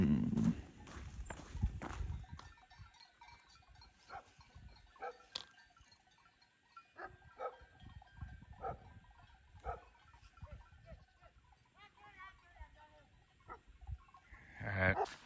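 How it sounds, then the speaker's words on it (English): Sheep moving close by with dogs, scattered hoof and foot sounds and soft animal calls, a brief voice near the start and end, outdoors. "Hey, we got sheep and dogs."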